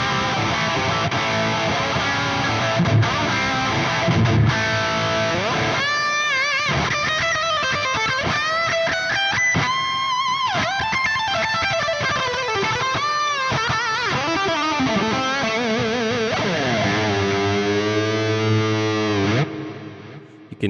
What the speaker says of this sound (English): Delay and reverb makes a huge difference.